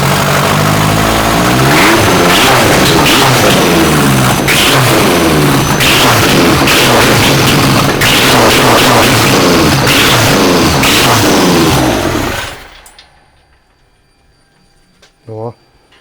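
A quad-turbo car engine on its first start roars and revs hard for about twelve seconds, close and loud with repeated rising and falling revs, then cuts out abruptly into near silence, followed by a brief faint clink.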